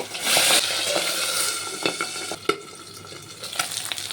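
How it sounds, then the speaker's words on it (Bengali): Small pabda fish frying in mustard oil under a lid, giving a close, steady sizzle with a few sharp pops and clinks from the pan. Nobody speaks. "মাছটি খুব ছোটো, তার জন্য আমি ঢেকে ঢেকে ভেজে নেব।"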